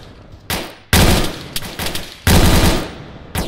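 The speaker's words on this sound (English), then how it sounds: "Oh, you're shooting someone." Close, loud machine-gun bursts in ARMA 3, several rapid volleys of a second or more each, broken by brief gaps, with no talk over them.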